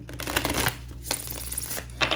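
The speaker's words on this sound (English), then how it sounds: "I'm going to shuffle the cards first, just so I can pick one for each sign." Tarot cards shuffled by hand in a few quick riffling bursts, close and crisp, with brief pauses between bursts and no talking.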